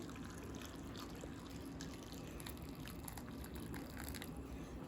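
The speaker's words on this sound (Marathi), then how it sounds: "मी गरम पाणी घालते" Hot boiled water poured over cluster beans (gavar) in a home kitchen, a steady continuous splashing pour lasting the whole stretch, fairly close, with no one talking.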